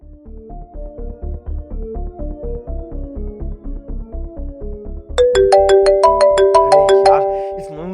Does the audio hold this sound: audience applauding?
no